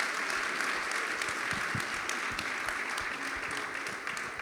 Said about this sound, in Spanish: Si tú le quieres, dale un aplauso.